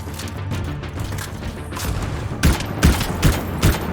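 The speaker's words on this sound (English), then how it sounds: "Oh, like this scout rifle I started using." Scout rifle gunfire in the video game Anthem: a low rumbling backdrop, then several spaced, punchy shots fired in a slow rhythm, fairly loud and close, with no talking.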